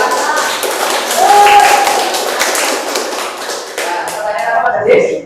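A school class claps hands together during a lesson, a dense burst of clapping that runs for several seconds, with voices talking over it.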